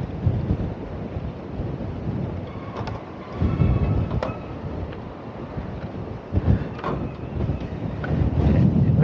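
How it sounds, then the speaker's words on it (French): Strong wind buffets a microphone at Tarifa harbour, a rough low rumble surging and easing in gusts across the whole stretch, with waves in the port. "Alors pour vous dire que le vent il souffle"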